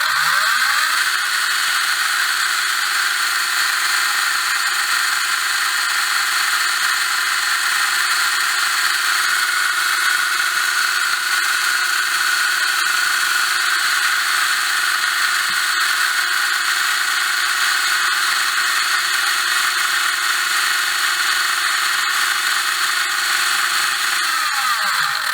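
A REDS Racing VX4 factory-selected 17.5t brushless electric motor does a free RPM run, spinning up quickly to a loud, steady high-pitched whine, holding it for about twenty seconds, then winding down, with no voices.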